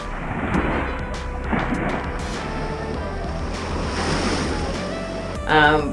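Ocean surf rolls onto a beach in Krabi, a steady wash of breaking waves with rushing spray and some wind buffeting, surging louder near the end.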